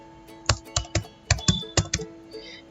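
Keystrokes on a computer keyboard while Python code is typed, about ten distinct close taps in an irregular rhythm, some clustered, with a quiet room hum underneath and no talking.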